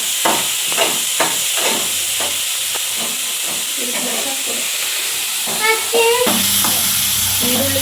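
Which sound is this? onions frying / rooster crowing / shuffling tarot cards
onions frying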